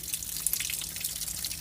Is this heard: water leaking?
yes